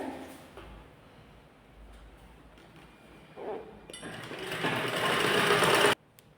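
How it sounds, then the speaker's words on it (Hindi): A sewing machine stitches piping onto a net fabric blouse, first quiet handling and faint clinks, then a loud, close, continuous whirring run of about two seconds that stops abruptly. "अब देखिए गोल पाइपिंग बनाते हुए इसको हम कंप्लीट करेंगे यानी सिलाई लगाकर"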